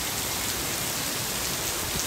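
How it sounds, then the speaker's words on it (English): Rain falls steadily in Singapore, a constant hiss of drops striking hard surfaces close by, with no voices over it. "I really wish it wasn't raining though"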